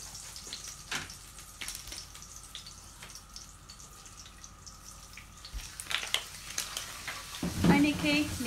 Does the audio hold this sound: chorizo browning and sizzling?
yes